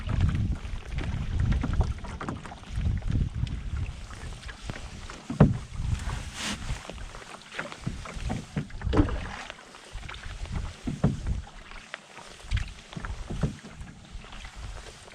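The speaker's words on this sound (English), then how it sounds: "So it'll be about another 30 minutes of paddling back to where the vehicle is" A canoe is paddled on the South Branch of the Harris River in almost no wind, with rhythmic paddle strokes, water splashing and gurgling against the hull, and low wind rumble on the microphone, close and continuous.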